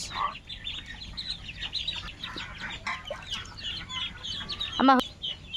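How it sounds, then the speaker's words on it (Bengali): Ducks raised on a village farm give scattered quacks and clucking calls throughout, with one sharper, louder call near the end and a voice in the background. "এই তো চেনা হাঁস"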